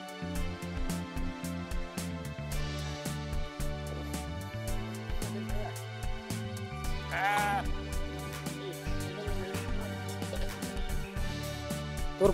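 A flock of sheep bleats repeatedly, with many overlapping calls near and far, one drawn-out wavering bleat standing out, and occasional voices mixed in.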